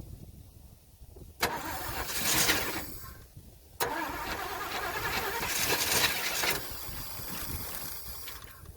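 A Chevrolet Caprice 4x4 engine cranks briefly, then catches and starts, cranks again and fires up, settling into a steady, fairly loud idle that runs on alone without talk.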